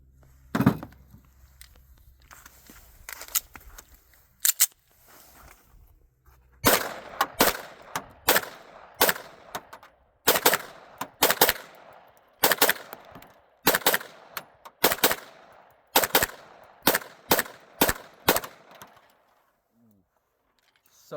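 A Springfield Prodigy 1911-style pistol fires about eighteen sharp, loud shots in uneven bursts, single reports with short pauses between them and quieter gaps before and after, with no voices.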